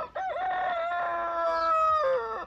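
Voices imitate chickens with a drawn-out, crowing cluck, sustained and close for about two seconds with a sharp rise and fall at the end, alone and loud.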